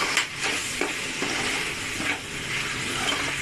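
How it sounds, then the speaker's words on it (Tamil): Vegetables with ginger garlic paste sizzle in a pan for a few seconds, a steady hiss broken by soft stirring clicks and scrapes, with no talking. "இப்போ நம்ம போட்டு நல்லா காய்கறியோடு சேர்த்து அதை நல்லா வதக்கிட்டு இருக்கும்போது"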